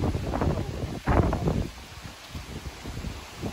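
Gusts of wind buffet the microphone in rough, low rumbling bursts, strongest early on, then easing into a softer blustery rustle.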